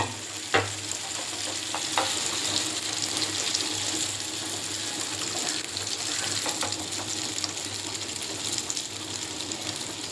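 Oil sizzles and crackles steadily in a pan as it is swirled around, with a few sharp clinks of utensils on metal near the start and occasional louder pops, and no one speaks.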